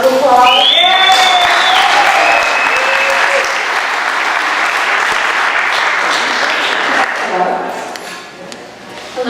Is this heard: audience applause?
yes